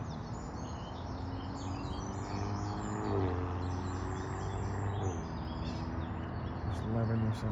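Birds chirp in the morning beside a fishing bank, scattered calls layered over a constant outdoor wash of noise and rumble.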